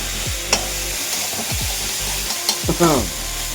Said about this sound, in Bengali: এর সঙ্গে মশলাটা ভেজে নিলাম।